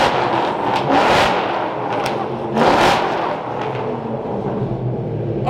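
A straight-piped Ford GT engine revs hard in loud, rising bursts, two big surges with smaller blips between, heard close up with no talking over it.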